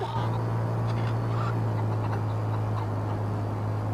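Chickens clucking in the GTA video game, heard as soft fowl calls over a constant loud low hum that runs through the whole stretch.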